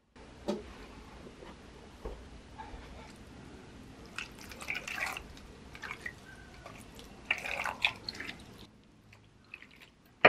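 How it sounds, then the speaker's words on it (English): Water drips and splashes softly as houseplants are watered indoors, faint irregular drops and trickles with a few louder bursts of pouring. "let's water this too"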